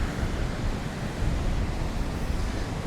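Ocean waves on a beach in Da Nang, Vietnam, a steady broad roar of surf with wind buffeting the microphone, continuous and close with no distinct breaks.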